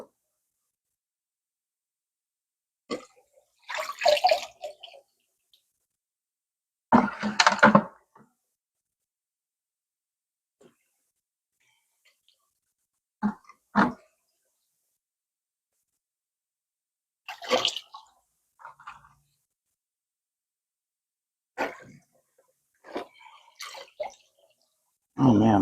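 Aquarium decor and a sponge filter carrying snail eggs being rinsed under running water, in several separate bursts of splashing and trickling with quiet pauses between them.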